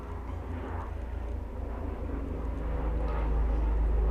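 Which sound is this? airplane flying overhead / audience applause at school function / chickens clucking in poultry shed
airplane flying overhead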